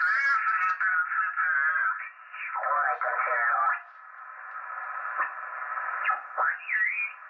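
An amateur radio receiver tuned to the 20 meter band gives a narrow, continuous crackle of warbling, garbled sideband chatter and whistles, thin and tinny, at moderate level throughout.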